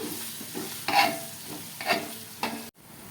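Mutton fat frying with ground cinnamon, clove and cardamom for mutton biryani, a soft sizzle broken by several stirring scrapes of a spoon in the pan, close and fairly quiet.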